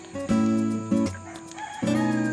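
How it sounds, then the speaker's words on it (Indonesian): A rooster crowing at night, loud and close, with repeated stretched crows and clucks across a couple of seconds and no talking. "jadi teman-teman bisa dengar suara ayam berkokok ya"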